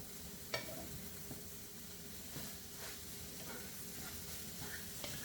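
Scrambled eggs with bologna sizzle softly in a pan while being stirred, a faint steady hiss broken by occasional light scrapes and taps of the utensil.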